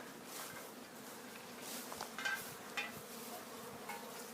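Honeybees fly around the hives and nucleus colonies at an apiary, a faint, steady buzzing swarm heard throughout.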